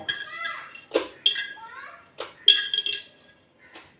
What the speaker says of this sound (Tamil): இப்போ இதையும் நல்லா கழுவி வச்சிடலாம்